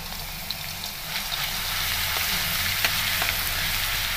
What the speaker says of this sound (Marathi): लसूण छान असं तळून घ्यायचं आहे